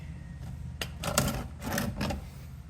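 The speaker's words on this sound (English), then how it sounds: "drain bolt right here. So go ahead and break that loose" The oil drain bolt on a 2023 Kia Forte GT is broken loose under the car with a wrench, giving a few close, dull metallic clunks and ratchet clicks in short bursts.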